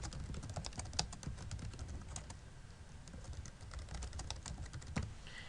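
Steady, close clicking of fingers typing a comment on a computer keyboard at a clinic's electronic records workstation, a quick uneven run of keystrokes with a few sharper taps, no voices.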